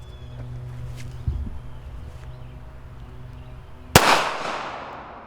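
Pistol being fired outdoors at a range: a faint early pop, then one loud, sharp shot that rings out with a trailing decay.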